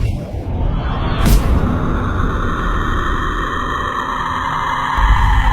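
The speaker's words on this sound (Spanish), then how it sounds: "Lo que están escuchando son ondas electromagnéticas traducidas a ondas sonoras." Earth's electromagnetic waves converted into sound form a continuous, loud, dense rumble and hiss with a brief whooshing sweep near the start, steady throughout with no speech.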